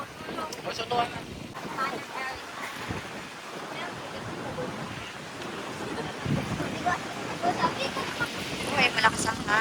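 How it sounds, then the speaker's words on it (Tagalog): Strong wind buffets the microphone in a roaring, gusty rush over open water by a mangrove boardwalk in Boracay, Philippines, with voices talking intermittently beneath it. "Uy, malakas ang hangin."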